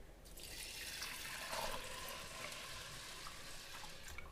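Water is poured from a cup onto rice in a rice cooker for maqluba, a faint, steady splashing stream heard alone with no talk.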